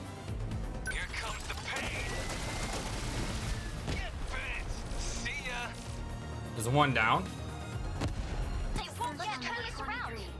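Chaotic combat in the video game 13 Sentinels: Aegis Rim on PS5: bursts of gunfire and explosion booms run continuously beneath a player's excited talk.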